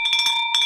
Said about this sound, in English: bell really rings